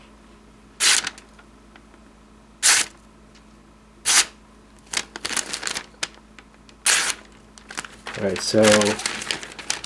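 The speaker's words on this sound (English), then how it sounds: "Just cutting right through very thin paper" A Microtech Socom Elite knife slices through very thin catalog paper in several quick, crisp rasping strokes spaced a second or two apart, followed by louder rustling handling of the paper as a voice speaks briefly near the end.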